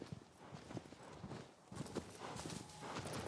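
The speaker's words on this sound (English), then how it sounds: "I hate riding this horse." Horse hooves clip-clopping at a steady riding gait in the video game Shadow of the Colossus, close and continuous over faint game ambience.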